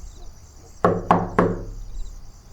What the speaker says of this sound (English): But on the third night, the taps came again. 3 sharp, deliberate knocks.